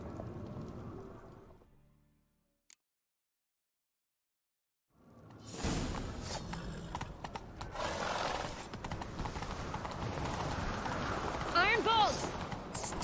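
A horse gallops in The Witcher 3, its hoofbeats driving through a dense, loud stretch of game action after a few seconds of near silence, with a brief whinny-like call toward the end.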